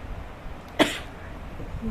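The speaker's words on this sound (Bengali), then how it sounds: "কাশি আসছে" A single short cough bursts out once, close and brief, against a quiet room background with no talking.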